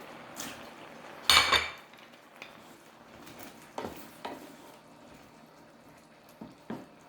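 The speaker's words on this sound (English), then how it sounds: "I'm going to add back the shrimp in" Shrimp dropped back into a pot of ginataang kabocha squash stew, giving a sharp metallic clatter of utensil against pot followed by a few lighter clinks and soft stirring sounds, close and without talk.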